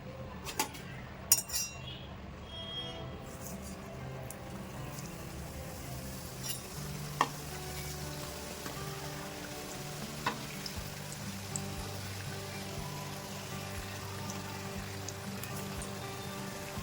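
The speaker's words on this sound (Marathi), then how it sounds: "आपलं तेल असं मस्तपैकी तापलेलं आहे आता आपण एक एक करून असं टाकून घेऊया करंजी" Karanji (gujiya) dropped one by one into hot oil for frying, a quiet bubbling sizzle under a low steady hum, broken by occasional clinks of utensils and small splashes. Nobody speaks.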